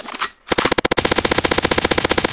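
A gunshot sound effect in a music track fires as a rapid automatic burst, loud repeated sharp cracks in a fast steady rhythm over a thick musical backing.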